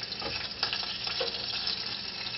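Oil sizzling in a frying pan while gravy is being started, a steady close crackling hiss with faint scrapes and pops throughout.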